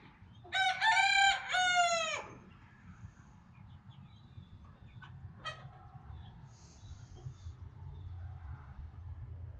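A rooster crows loudly and close by in a new chicken coop, followed by a few scattered clucks from hens over a steady low background rumble.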